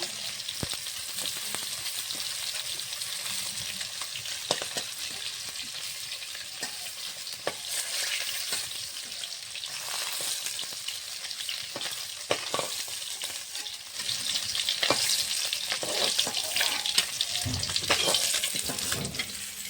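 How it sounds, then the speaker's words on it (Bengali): Fish frying in hot oil for a home-style fish curry makes a continuous crackling sizzle with frequent sharp pops and occasional scraping, heard close and fairly quiet, no voices. "মাছগুলো ভেজে নিয়েছি, ভালো করে নামিয়ে নেব।"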